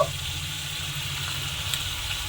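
Spice paste mixed with yogurt frying in a pan while cooking stuffed eggplant, a steady soft sizzle and hiss running throughout, close and even with no talking.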